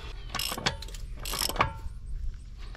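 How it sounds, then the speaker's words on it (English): A hand ratchet with a 33mm socket tightening a front CV axle nut on a car, two short bursts of rapid metallic clicking, close and clear, with a few knocks between them. "You want to grab your 33mm socket, and I got a ratchet, and you just want to tighten it up."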